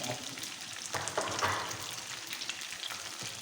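Chicken wings frying in oil over medium heat produce a close, continuous sizzle with bubbling crackle and a few bursts of spatter, with no voices.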